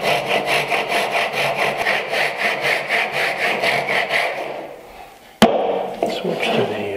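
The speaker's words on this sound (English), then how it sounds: "crosscut version of the saw." Crosscut hand saw cutting wood for a mitered bridle joint: rhythmic push-pull rasping strokes, loud and close, fading out before a sharp knock and some light handling noise.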